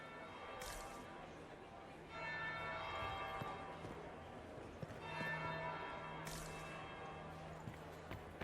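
A church bell rings in the video game Dragon Age: Inquisition. Two resonant strikes sound several seconds apart, each followed by a long ringing decay under quiet background sounds.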